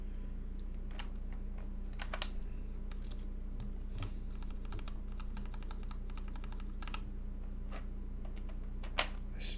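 Cream switches clack on a custom cerakoted Keycult No.1/60 keyboard, a 60% board, in an irregular run of crisp close keystrokes spread across the clip, with a steady low hum behind them.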